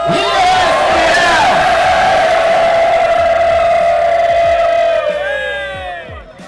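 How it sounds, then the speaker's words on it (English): Loud crowd of teams at a season opening ceremony erupts in a sustained collective shout and cheer, voices rising together in a long held roar before trailing off, with clapping buried beneath. "Big round of applause to all of you."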